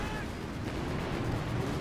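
Artillery barrages in the strategy game Company of Heroes 2, a dense continuous rumble of distant booms and impacts, low and muffled, with faint commentary underneath.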